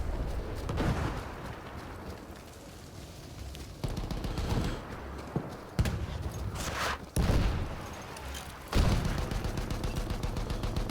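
Battlefield 1 combat: sustained machine-gun fire and scattered gunshots with several sharp, heavy booms at irregular intervals, loud and close throughout.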